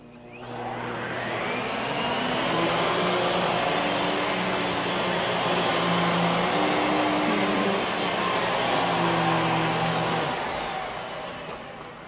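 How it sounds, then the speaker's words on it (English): A vacuum cleaner runs over a carpet in a steady, loud, close whir that holds evenly for about ten seconds before tapering off. "First, vacuum dirt from your carpet."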